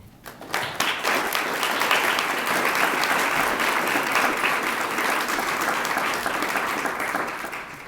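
A crowd at a high school commencement ceremony bursts into applause. Dense, sustained clapping from many hands swells quickly, holds steady for several seconds and tapers slightly at the end.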